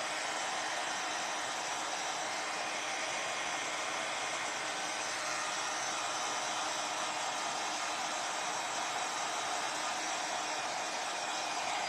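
A heat gun blows hot air steadily while heating material for decoupage roses on a glass heart vase, giving a continuous broadband whooshing roar that stays even and close for the whole stretch.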